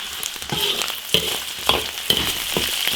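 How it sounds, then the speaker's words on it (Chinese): Cured pork stir-fried in an iron wok with garlic, Sichuan peppercorns and dried chilies, sizzling loudly and steadily with sharp scraping strokes of the spatula every half second or so. "腊肉爆炒"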